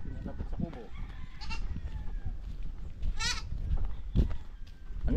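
A goat bleats in a rural bamboo-grove picnic setting, a short wavering cry rising briefly over ongoing conversation and outdoor background noise.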